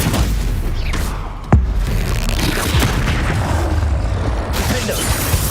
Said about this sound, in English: Stupefy.